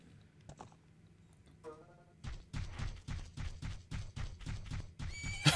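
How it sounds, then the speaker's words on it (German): Horse from the video game Zelda Majora's Mask, a whinny followed by a steady run of clip-clop hoofbeats, fairly close, with faint game sounds before it. "Ist das nicht dein Pferd?"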